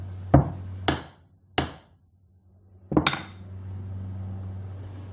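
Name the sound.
hammer smacking carbide wrapped in a rag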